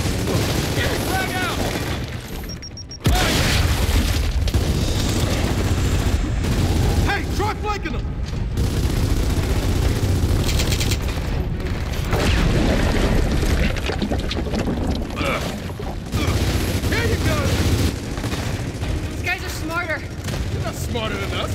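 Frag grenade explosions in the video game Gears of War 4, loud booming blasts and gunfire-like bursts layered over dense game action and voices, with a sharp break early on.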